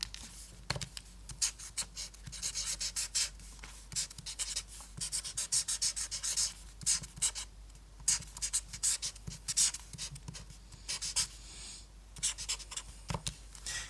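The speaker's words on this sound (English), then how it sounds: "maybe I'll write that on there" Pen writing by hand on a surface, steady scratchy strokes in bursts with brief pauses, close and fairly quiet, with no talk.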